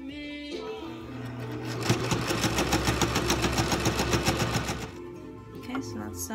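A sewing machine stitches chair cushion fabric in one continuous rapid, rhythmic run of about three seconds, close and clear, with a person talking before and after.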